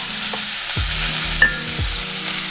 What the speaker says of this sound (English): Now, sauteing the vegetables, this is actually going to bring out more flavor from it.